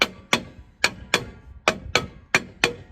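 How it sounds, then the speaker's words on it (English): Hammer taps around a seized brake drum on a 2002 Toyota Tacoma, eight sharp metallic strikes in an uneven rhythm, close and loud, each ringing briefly before the next. "I just get a hammer and I tap around it"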